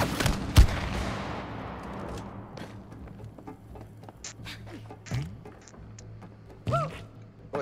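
Gunfire in the video game It Takes Two: one loud, sharp shot near the start, then a scatter of softer shots and thuds against a low, steady game background, with faint voices at times.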